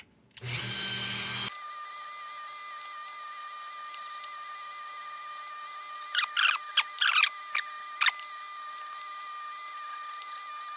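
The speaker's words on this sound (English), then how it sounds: "This can use some wire wheel and a little bit of buffing out." A bench wire wheel buffs a vintage brass burner. A loud, harsh burst of grinding lasts about a second, then a steady motor whine carries on with several short scraping bursts near the end.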